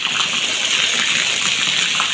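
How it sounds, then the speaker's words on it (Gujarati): Loud, continuous gushing of heavy rainwater pouring off a house roof during a downpour in Banaskantha, a dense steady rush with no pauses. "આ મકન ઉપરથી ભારે પાણીનો પ્રવાહ પડી રહ્યો છે"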